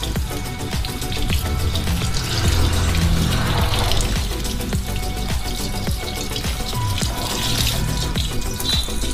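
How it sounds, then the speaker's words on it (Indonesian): Muddy brown water pours out from behind the fender of a Mitsubishi Triton pickup, making a loud, continuous splashing gush with scattered drips and clatter throughout and no speech. "lihat air yang keluar, coklat airnya"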